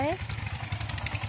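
An engine runs steadily inside a small room, a close, throbbing low chug like a motorcycle idling. A voice speaks briefly at the very start, then the engine carries on by itself.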